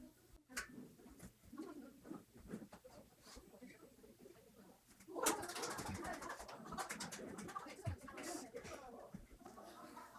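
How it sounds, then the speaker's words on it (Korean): Pigeons coo and flutter just outside an open church window during a Sunday service, soft repeated calls with light pattering and a louder burst midway, faint under occasional speech. "그냥 비둘기도 와서 환영해주고"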